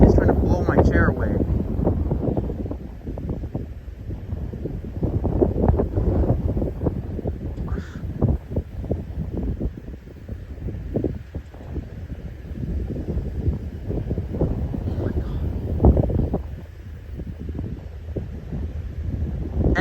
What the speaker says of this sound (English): The wind is trying to blow my chair away.